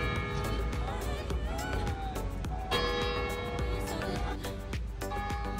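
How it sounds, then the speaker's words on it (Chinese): Bells of the cathedral in Nha Trang, Vietnam, chime the eleven o'clock hour in a series of bright, ringing strikes with long overlapping decay, heard from the grounds amid faint crowd and street noise. "这钟声现在还在报时啊。"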